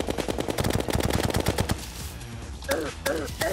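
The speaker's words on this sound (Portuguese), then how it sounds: "Vai, começa a dar tiro agora." Rapid gunfire from a gun in Terraria's expert mode, a dense burst of quick repeated shots for nearly two seconds, followed by a few separate sharp blasts.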